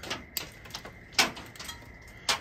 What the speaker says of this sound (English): what you're hearing is the frost on the trees falling off on the metal roof.